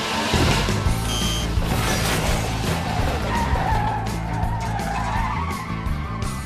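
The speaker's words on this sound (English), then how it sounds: "You like them spinning tires, do you?" A car's tires spin and skid in a loud, continuous squeal over a revving engine, the screech wavering and shifting in pitch for several seconds with no talking.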